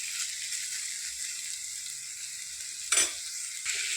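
Broad beans in a green chilli curry being stirred in a frying pan, a steady soft sizzle with scraping spoon strokes and one sharper clatter near the end.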